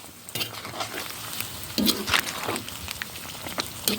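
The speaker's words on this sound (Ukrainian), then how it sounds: "Так, перемішаємо все це діло добряче" Pork belly with hot pepper being stirred in a pan for a Chinese-style dish, with close scraping and clinking of a utensil over a soft sizzle and a few sharper knocks.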